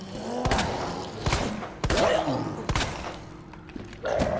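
Gunfire in the Resident Evil 2 video game, with several sharp shots spaced about a second apart, some followed by thuds, and a voice talking between the shots.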